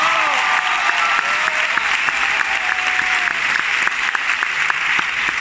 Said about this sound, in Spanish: Héctor Artiles, fuerte el aplauso, por favor.